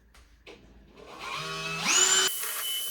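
A power drill whirs up in pitch and speed, then cuts off into a brief harsher grinding burst as it drills into drywall.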